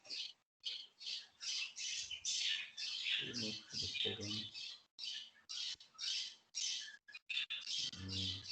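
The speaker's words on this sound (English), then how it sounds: "So birds are chirping." Loud, close bird calls repeat in rapid bursts, harsh squawks and chirps crowding the whole stretch, with brief low voices mixed in, during a power cut.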